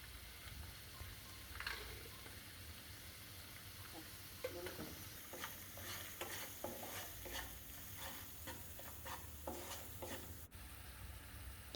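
Spice paste of cumin powder, chili powder, turmeric and salt stir-fried in a pan for a fish and ash gourd curry, with a steady sizzle under repeated scraping strokes of a spatula, fairly quiet and with no talking.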